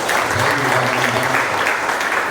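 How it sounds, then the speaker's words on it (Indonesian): Steady, dense applause from an audience at a flagship motorcycle store opening in Surabaya, loud and sustained with no pauses, a crowd clapping together close by. "beri tepuk tangan yang luar biasa untuk pers media"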